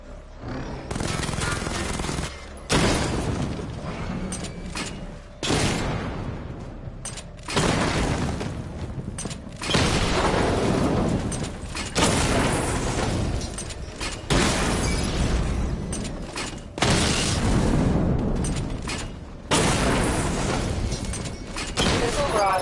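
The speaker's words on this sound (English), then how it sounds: "Charge the missile barrage to level 2 to destroy up to 4 targets at once." Repeated heavy blasts of a missile barrage from the Batman: Arkham Knight video game arrive in loud dense waves, each a rolling burst of explosions and gunfire lasting a couple of seconds with short gaps between them, continuing throughout.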